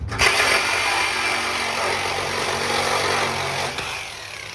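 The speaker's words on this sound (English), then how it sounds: "I'm gonna cut his exhaust off for him" A blade saws through the exhaust pipe of a customer's truck in a loud, steady, grinding rasp that keeps on for several seconds. It stops near the end, and no voices are heard over it.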